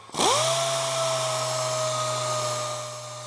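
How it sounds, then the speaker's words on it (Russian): Aircraft paint on a Cessna 421C is sanded with a fine abrasive pad on a powered tool that spins up quickly, then holds a steady, close, buzzing whine that fades slightly at the end. "Сейчас я уже прохожу мелким трезаком."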